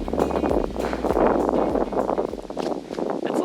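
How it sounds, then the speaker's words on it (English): Steady wind buffeting the microphone outdoors, a continuous low rumbling roar with gusty fluctuations throughout. "It's a little windy over here."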